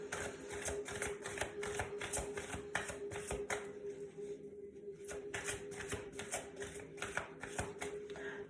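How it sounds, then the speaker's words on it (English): Tarot cards are shuffled by hand, making quiet, continuous riffling with rapid rhythmic ticks and taps that repeat for several seconds, with no talking. "as I'm shuffling the cards"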